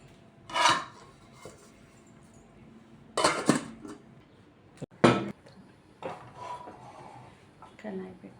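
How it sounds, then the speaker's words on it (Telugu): A lid set on a pot of marinated chicken for dum biryani, heard as a few separate close metallic clanks and scrapes spaced across several seconds, with quiet handling noise between them. "ఇప్పుడు మూత పెట్టేద్దాం"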